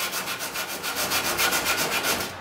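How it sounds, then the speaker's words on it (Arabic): Sandpaper scrubbed by hand over a rusty spot on a washing machine or fridge, a steady back-and-forth rasping in even strokes, close and fairly loud, with no voices. "ممكن تجيب صنفرة وتبتدي تصنفر الصدى ده او الجزء اللي عليه الصدى."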